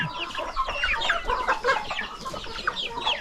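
Farm chickens in a coop cluck and squawk busily while pecking at scattered termites, a loud, close, continuous chatter of overlapping calls.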